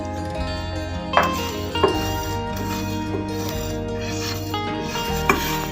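Whole spices roasting in a pan and being stirred, a steady dry scraping rub with a few sharp clinks of utensil on metal, close and alone.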